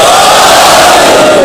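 A large crowd at a religious majlis gathering chants slogans in unison, a loud, dense roar of many voices filling the space for a brief burst.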